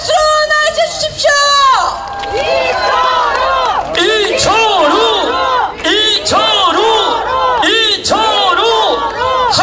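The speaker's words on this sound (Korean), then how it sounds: "큰 박수로 맞아주십시오" Crowd at a gubernatorial candidate's election rally in Gyeongsan cheering loudly, with amplified, chant-like voices and music over dense cheering and clapping, continuous and near.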